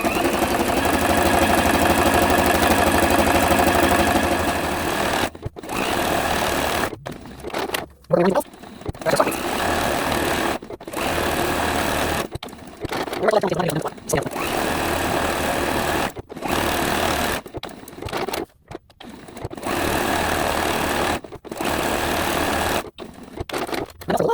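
Sewing machine stitching appliqué on a Christmas tree quilt, a loud close mechanical whir running in long bursts broken by short pauses, with a person talking in between.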